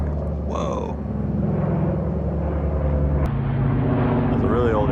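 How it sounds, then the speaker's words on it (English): An old propeller airplane passes overhead outdoors above a paver patio, a loud, steady droning engine hum through the whole stretch, with a voice briefly speaking over it. "That's a really old airplane."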